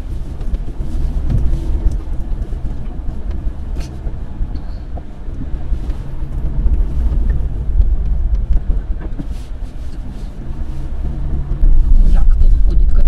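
Toyota Hiace van driving on the road, a steady loud low engine and road rumble throughout with a brief louder surge near the end.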